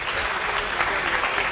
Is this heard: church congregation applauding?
yes